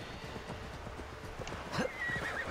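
A video game horse whinnies briefly over faint hoof clip-clops and soft ambient game noise, fairly quiet and without talk.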